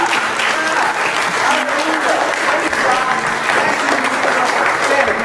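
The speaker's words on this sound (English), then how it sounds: "No, keep clapping, keep clapping." Church congregation clapping steadily and loudly throughout, a dense sustained wash of applause from a large crowd with voices mixed in.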